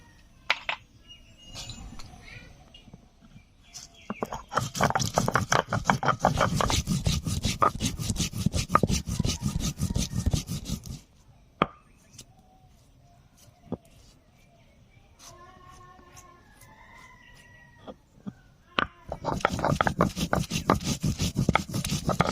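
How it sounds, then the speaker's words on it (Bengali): Cumin, coriander and dried chillies being ground into a paste on a stone for a Bengali fish curry, with long stretches of loud, steady rhythmic scraping and rubbing strokes that break for a quieter pause before starting again. "জিরে ধনিয়ার সঙ্গে কয়েকটা শুকনো লঙ্কাও বেটে নেব।"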